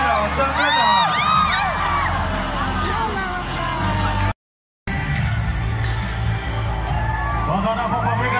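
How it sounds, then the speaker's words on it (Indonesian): Crowd at an army day celebration in Tawau cheers and whoops after a parachutist lands, loud continuous outdoor hubbub with shouts over it, interrupted by a short gap of silence midway. "berikan tepukan kepada penerjun kedua"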